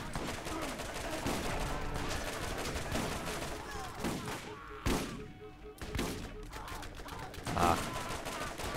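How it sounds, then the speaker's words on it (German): Rapid gunfire from the video game Borderlands, near-continuous bursts of shots with a few sharper blasts, heard alongside game audio. "Okay, ich stehe unter Beschuss."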